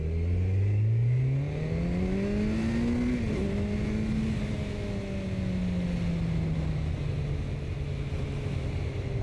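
A motorcycle engine revs while riding, pitch climbing then easing to a steady drone, close and continuous with wind rush underneath.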